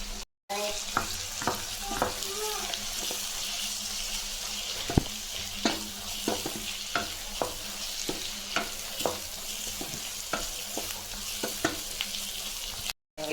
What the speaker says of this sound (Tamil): கொஞ்சமாக கறிவேப்பிலை போட்டுக்கலாம் நல்லா வதக்கலாம்